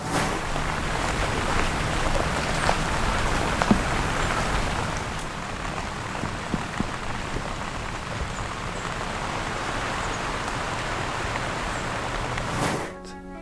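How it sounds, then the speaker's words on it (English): Steady rain patters on a tent set up as a cozy getaway, a dense continuous hiss of drops with scattered louder taps, no talk, ending in a brief clatter. "it's also really neat coming in here when it's raining"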